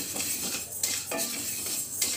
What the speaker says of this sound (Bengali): ডালটা ভাজছি, একটু রঙটা বদলে যাবে আর একটু ভালো গন্ধ বেরোবে